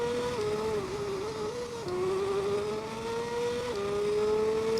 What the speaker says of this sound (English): You can hear that transmission change.